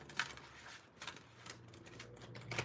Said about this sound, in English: shuffling the cards